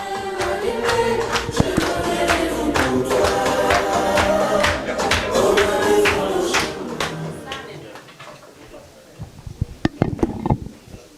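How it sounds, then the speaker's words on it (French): Crowd at a diaspora political gathering applauding, steady dense clapping that holds for several seconds, then thins into scattered louder individual claps near the end. "Applaudissez pour le doyen Amadou Sarr, s'il vous plaît, applaudissez."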